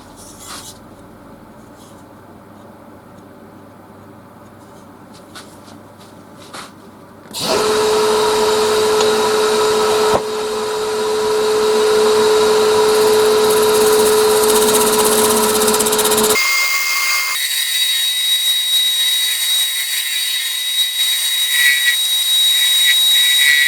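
A wood lathe turns a vase lamp piece while a negative rake scraper works it. Quiet background gives way to a loud, steady motor whine with a sustained tone and scraping hiss, which then shifts to a higher-pitched running hum.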